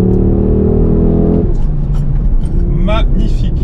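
An ABT-tuned Audi RS3-R accelerates hard, a loud close engine note with rising harmonics that cuts off abruptly partway through, followed by lower road and cabin noise with brief voice sounds.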